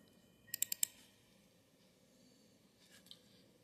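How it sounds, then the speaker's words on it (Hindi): Computer mouse clicks, a quick burst of four close, crisp clicks followed later by a fainter pair, all quiet against a soft background hiss. "डबल क्लिक करते हैं।"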